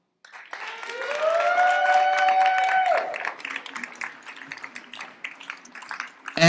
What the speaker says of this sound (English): Please give a round of applause to Temezcal presenting Levant.